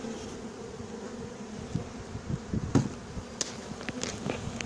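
Honey bees buzz steadily around a horizontal hive, a dense continuous drone with a few louder close passes and small knocks; no talking.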